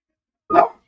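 A dog gives a single short, loud bark, sharp and close, alone in otherwise silent surroundings.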